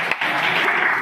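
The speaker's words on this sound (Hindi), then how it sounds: "उनके लिए तालियां हो जाए" A brief burst of applause from a crowd at a university convocation ceremony, dense and steady for about a second.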